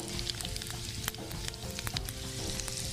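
Green chillies and curry leaves fry in hot oil in a pan, making a loud, close sizzle with sharp crackles and pops scattered over a steady frying hiss.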